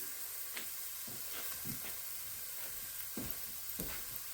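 Onions sizzle steadily as they saute in a hot pan, a continuous frying hiss with occasional soft stirring clicks and pops, close and moderately quiet, no talking.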